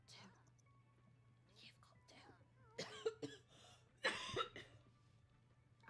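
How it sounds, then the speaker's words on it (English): A single cough bursts out around the middle, followed by a second throat-clearing hack, close to the microphone over a low steady hum, with faint murmuring before it. "waiting for that cough. I knew it was coming."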